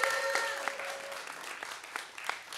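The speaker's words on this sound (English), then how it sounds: "Round of applause for František." Light, scattered applause at a young water professionals' debate, a few individual claps standing out against a faint sustained tone, fairly quiet and thin as for a small audience.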